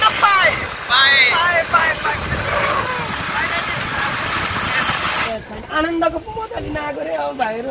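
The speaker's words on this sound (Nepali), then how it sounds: "आज त हावा चल्यो नि नत्र यस्तो दामी हावा चल्थ्यो यहाँ" Strong wind blows outdoors, rushing and buffeting against the microphone throughout, while voices talk over it almost the whole time.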